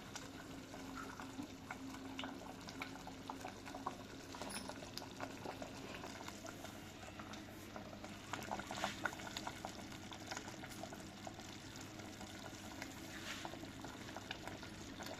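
Thick horse gram soup (ulavacharu) keeps bubbling in a hot clay pot after the stove is switched off, giving a soft, steady simmer with small blips and pops throughout, quiet and close.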